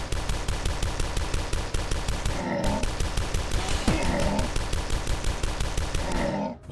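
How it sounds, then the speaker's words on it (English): Rapid gunfire from a weapon in the retro shooter Dusk, a steady fast stream of close, loud shots fired like a machine gun, with brief grunts and a short pause midway. "You can shoot this almost like a fucking machine gun"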